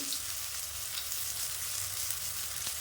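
Eggplant pieces with a pinch of turmeric frying in oil produce a close, loud, even sizzle with steady crackle and no talking throughout.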